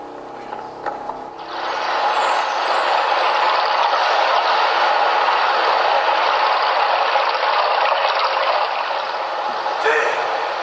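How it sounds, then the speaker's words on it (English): A stage waterfall effect in a school production of One Flew Over the Cuckoo's Nest, a steady broadband rushing that swells in after a quiet second and holds loud and even before fading near the end, with no talk over it. "There, the waterfall. How come I hear it?"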